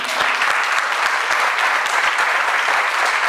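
A church congregation applauding during a sermon, loud, dense clapping with a few sharp individual claps standing out, sustained evenly without speech.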